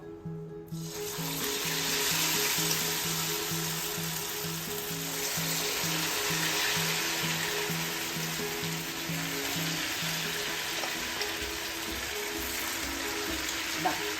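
Tavalai vada sizzling steadily in hot oil, a continuous close bubbling hiss with a faint steady whine above it, no talking.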